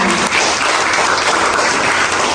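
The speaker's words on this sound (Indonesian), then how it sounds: "tepuk tangan dulu buat Rian." A class of students at a nursing academy claps for a classmate, dense and even applause filling the whole stretch with no talking over it.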